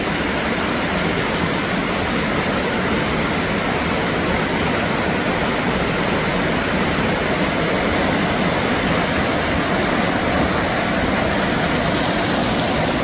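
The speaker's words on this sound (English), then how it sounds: "So might as well come see this spectacular waterfall." Lower Reid Falls in Alaska roars close by, a loud, unbroken broadband rush of falling water that holds steady from start to finish with no voices.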